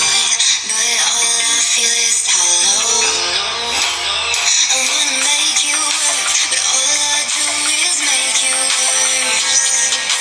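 Stereo speakers on a Huawei MatePad T10 tablet play music at steady, fairly loud volume, with tonal melodic lines and bright upper content running continuously throughout.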